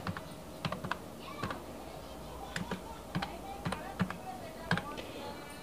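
Text being typed on a computer keyboard while an Adobe After Effects tutorial is built, heard as irregular bursts of crisp, close key clicks with short pauses between strokes.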